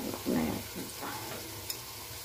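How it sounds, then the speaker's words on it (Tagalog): Sweet potato (kamote) frying in oil in a pan, some pieces burnt, giving a steady sizzle with stirring and scraping noises, no talking. "Prito lang natin yung kamote. Nasunog na yung iba."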